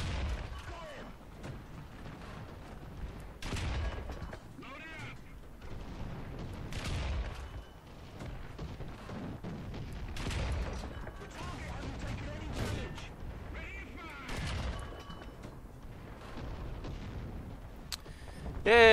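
Tank cannon fire in the War Thunder video game: a series of deep booms several seconds apart over a constant low battlefield rumble, moderately quiet in the mix.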